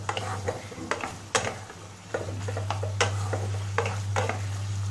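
Chicken pieces fry in a pan with a soft background sizzle, while a spatula knocks and scrapes against the metal in irregular, sharp clicks close by. No one speaks.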